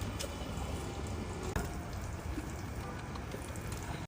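Water runs steadily while someone washes up, a continuous splashing hiss with small drips and a sharper knock near the middle and again at the very end, with no talk.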